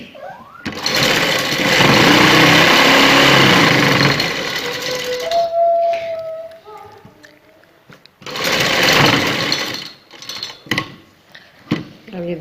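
A sewing machine stitching an embroidered V-shaped neck design runs in two loud buzzing bursts separated by quieter handling noises and clicks.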